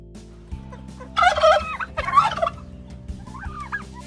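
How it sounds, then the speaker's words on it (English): Wild turkeys from a flock gobble in two loud, rattling bursts, followed by a softer third call, with a steady low hum running beneath them. "And I see a flock of wild turkeys."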